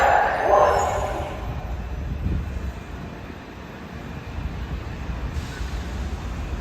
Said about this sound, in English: I've been waiting to catch one of these trains for a long time, and it's finally coming in.